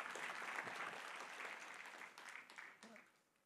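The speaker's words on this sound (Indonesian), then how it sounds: "Tepuk tangan untuk Profesor Maharani." Applause at a university professor's inauguration ceremony: dense, steady clapping from a seated audience that stays fairly even, then thins and fades toward the end.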